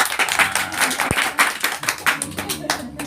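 An audience at an agricultural extension session on making bokashi breaks into applause, a brisk patter of clapping hands running throughout, while people speak over it.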